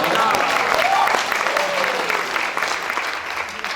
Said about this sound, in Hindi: तो रहने दो ताली, बस बस ये बस बजाता ही रहे बेटा